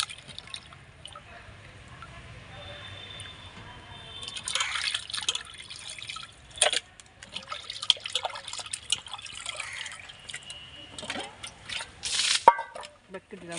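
Fish being washed by hand in water, with soft splashing, trickling and dripping sounds that come and go, fairly faint and close, with occasional louder sloshes.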